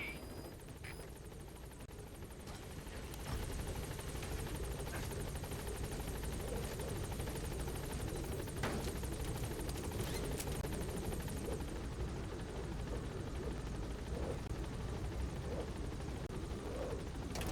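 In the video game Metal Gear Solid V, the B-Quad helicopter arrives at a landing zone with a continuous thrumming rotor roar that swells louder after a few seconds and holds steady.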